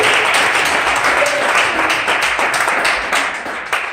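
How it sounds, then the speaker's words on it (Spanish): A church congregation applauds during an evening Spanish-language worship service, a steady, dense wash of clapping that fills the whole stretch and tapers slightly toward the end. "Cuando le dan ese aplauso al Señor"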